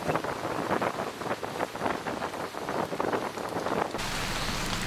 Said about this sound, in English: We came back from our beautiful bathtub hike to rain.